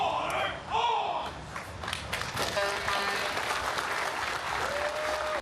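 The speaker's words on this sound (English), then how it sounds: "Officer Rich Wong, who was shot Tuesday afternoon, was clapped out by his fellow officers" Police officers applaud a wounded NYPD officer as he leaves Jamaica Hospital in Queens, a dense, steady wall of clapping and cheering from a crowd that carries on for the whole stretch, with voices calling out amid it.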